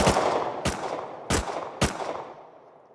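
Gunshots from guns in the video game Rust, four sharp loud bursts spaced roughly half a second apart, each trailing off into a short decaying echo.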